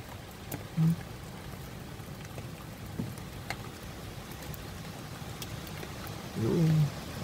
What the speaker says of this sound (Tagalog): ang lakas ng hangin tsaka ulan